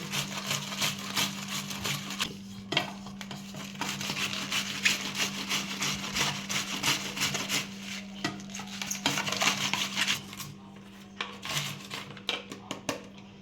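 Shredded cabbage for crispy fritters scraped against a potato grater in a home kitchen, a steady run of close, rasping strokes over a low constant hum, with no talking.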